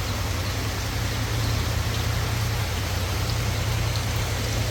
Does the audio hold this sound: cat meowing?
no